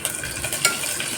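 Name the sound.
frying garlic, onion, curry leaves and spices in oil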